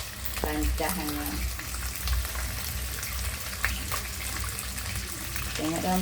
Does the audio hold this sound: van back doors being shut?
no